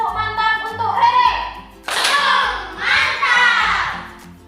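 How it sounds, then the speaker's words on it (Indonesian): Children in a classroom give a short rhythmic group clap, a few sharp bursts of hands between a teacher's voice and young voices calling out. "Beri tepuk mantap untuk Rere."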